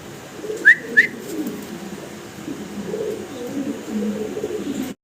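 American Helmet pigeons, a black pair of male and female, give low soft coos through most of the stretch, with two short sharp chirps near the start.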